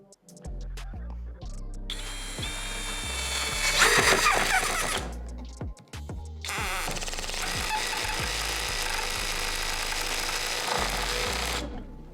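A Dnipro-M CD-200BC compact cordless screwdriver drives a screw into material: a steady whining motor runs close and loud for several seconds with a brief pause, its pitch shifting slightly under load, followed by another long continuous run.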